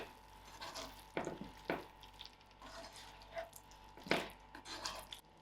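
A spoon mixes chicken quesadilla filling with mayonnaise in a bowl, making soft, irregular wet scrapes and squelches at a low level, with a few louder strokes.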